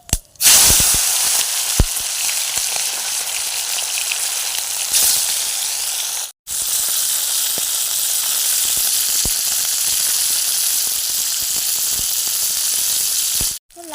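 Chicken meat frying in a pan with whole garam masala: a loud, steady, close sizzle with crackling spits, broken by a brief drop to near-silence around the midpoint before the hiss resumes.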